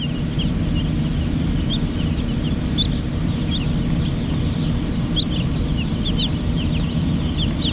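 Broiler chickens in a large commercial house cluck and chirp constantly in a dense, steady flock din, with scattered higher peeps over it and no talk.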